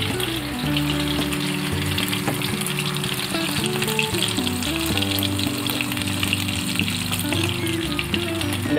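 Battered shrimp, coated in a mix of sugar, salt and egg, frying in hot oil: a steady, dense sizzle that runs unbroken throughout, with a low tonal hum underneath.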